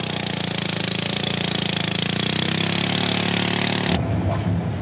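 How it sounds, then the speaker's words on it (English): Rail grinders smoothing a rough edge on new bridge track, a loud harsh continuous grinding roar with a steady rasping pulse, close and unbroken, then shifting abruptly near the end to a rougher, lower rumble. "The first run reveals a rough edge on part of the track, so the grinders go in and smooth it out."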